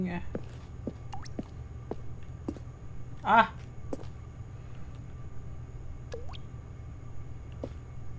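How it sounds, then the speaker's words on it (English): Water drips in The Stanley Parable video game, sparse and irregular, each drop a short plop over a low steady hum, with one brief exclaimed voice midway. "Water dripping?"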